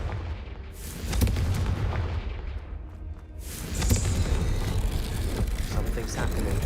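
A Confringo fire-blast spell cast in Hogwarts Legacy, with two heavy booming bursts about three seconds apart, each followed by a rumbling wash of game noise.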